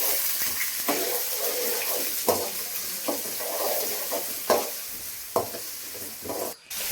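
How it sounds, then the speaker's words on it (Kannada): Onions hit hot oil along with cinnamon, cloves and cardamom, sizzling steadily while a spoon stirs and scrapes the pan in several distinct strokes, with no voices over it. "ಇವಾಗ ಈರುಳ್ಳಿ ಸೇರಿಸಿ ಫ್ರೈ ಮಾಡಿಕೊಳ್ಳೋಣ."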